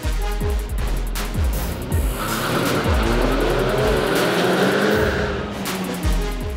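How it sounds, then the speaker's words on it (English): Hot hatch cars, among them a Hyundai i30N, launching in 0-100 km/h straight-line sprints at a track, with loud revving engines and repeated gear-change dips, plus a brief tire squeal. "warming up with 0-100 km straight line sprints"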